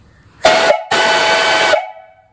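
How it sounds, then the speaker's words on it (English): A brass steam whistle on a live steam boiler gives two loud, close blasts, a short one and then a longer sustained one, with a breathy hiss around a steady tone before it fades. "It's a real nice whistle. I'll blow it here."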